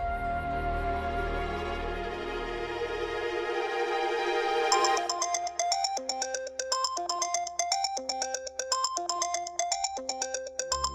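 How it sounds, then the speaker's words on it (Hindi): A phone ringtone plays a repeating electronic melody of bright tones, clear and fairly loud, after a few seconds of sustained musical sound. "भाई साहब का फोन।"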